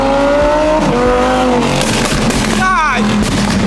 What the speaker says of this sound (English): There's no way my car is that loud.